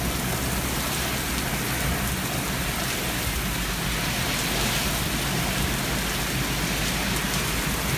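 Heavy rain pours down during a severe thunderstorm at 86th and Zionsville Road in Indianapolis around noon, a loud, unbroken roar of rain on surfaces with a deep rumbling undertone throughout.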